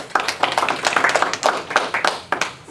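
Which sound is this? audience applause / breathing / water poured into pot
audience applause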